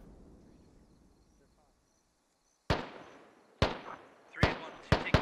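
Mortar shells explode in the Squad military shooter game, five sharp heavy blasts after a quiet stretch, the last ones coming in quick succession, loud and close with brief decaying rumbles.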